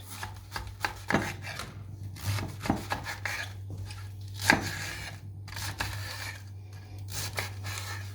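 A knife chops beetroot in irregular quick strokes against a cutting board, with a steady low hum in the background.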